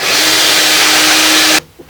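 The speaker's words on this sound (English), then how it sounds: "you just find a plug cutter that is the same size as the countersink, and just put a couple pieces of the same kind of wood" A power drill spins a plug cutter into a piece of wood to make wooden plugs for a coffin build: a loud, steady, high whine lasting about a second and a half that stops abruptly, followed by a faint knock.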